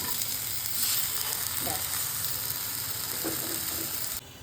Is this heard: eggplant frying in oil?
yes